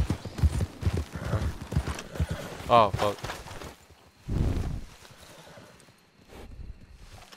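Horse hooves clip-clopping with a short whinny in the video game Red Dead Redemption 2, heard under frequent loud talk and swearing from players.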